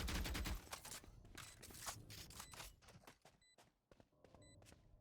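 Several sharp shotgun blasts from a Judge in the tactical shooter Valorant, played in a content creator tournament, land in quick succession amid other gunfire and footsteps, gradually thinning out toward the end.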